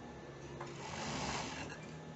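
A sewing machine runs in one steady continuous whir as it stitches the seams of a plus size bikini top, close and alone with no talking.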